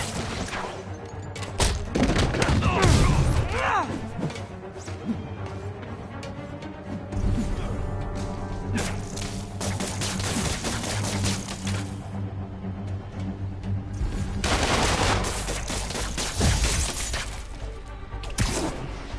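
Enemy gunfire in a Spider-Man video game, with dense bursts of shots, crashes and booms running continuously through the whole stretch at loud volume, with no speech over it.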